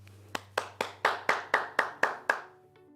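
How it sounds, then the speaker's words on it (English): Hands clap at a gala in honor of the staff: about nine crisp, evenly spaced claps in a steady rhythm, close and alone, ending with a faint tonal trail. "please join me wherever you're at in giving them a round of applause"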